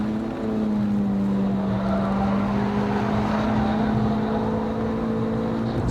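A 2006 MINI Cooper S JCW GP driven hard through a corner, its engine holding a loud, steady, strained drone throughout, with no talking.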